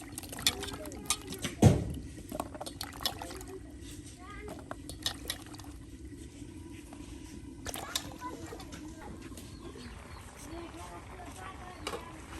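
Fish and gourd being rinsed clean with water in a home kitchen: splashing, pouring and sloshing with a loud clatter early on, then quieter intermittent water movement.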